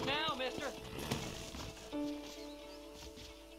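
Horse hooves clip-clopping in the western video game Red Dead Redemption, a brief run of soft hoofbeats with a short whinny, heard under someone talking.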